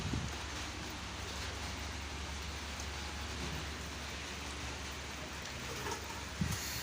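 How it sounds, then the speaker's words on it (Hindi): Rain falls steadily outdoors in a village, a dense even hiss of drops continuing throughout without pause, with a faint low rumble beneath and no voices. "बारिश आ गई है जी"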